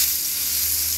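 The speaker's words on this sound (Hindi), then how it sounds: "ये मैं बनाते दिखा रही हूँ आपको फ्राई करते हुए" Chapli kabab frying in a pan gives a loud, steady, close sizzle of hot oil that holds unbroken throughout, with no talking.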